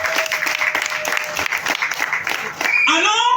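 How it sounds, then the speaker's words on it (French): Congregation applauding during a church sermon, a loud continuous rattle of many hands that ends as a voice rises near the close. "Applaudissez pour la gloire de Dieu."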